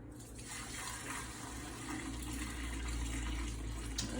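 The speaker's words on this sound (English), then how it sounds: "I'm pouring in this curdled grossness" Curdled milk punch pours steadily into a clean pillowcase for straining, a continuous soft liquid splashing and trickling that thickens slightly toward the end.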